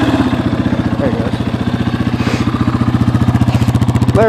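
A 2003 Honda CRF230F dirt bike idles just after a cold start, a close, steady single-cylinder putter with a fast, even chug and a slight mechanical clatter, running alone.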